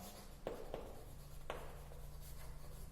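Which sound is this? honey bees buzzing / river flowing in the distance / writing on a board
writing on a board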